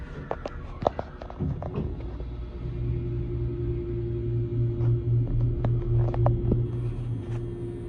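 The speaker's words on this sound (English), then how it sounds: "Here we go, listen to this motor." An MBTA train motor hums steadily on a Boston platform, a low sustained drone rising after a few sharp clicks and taps, continuing alone without voices.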